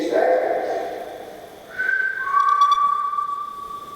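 Someone whistling in a dark old asylum building: a low held tone, a short pause, then a higher sustained whistle sliding into a long steady note, fairly near and clear with faint room noise.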